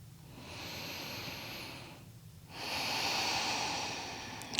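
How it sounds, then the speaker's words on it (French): Slow, deep breaths during a quiet yoga session, heard as two long, soft airy inhales or exhales close by with a brief pause between them and no talking. "Commencez à trouver des respirations de plus en plus profondes"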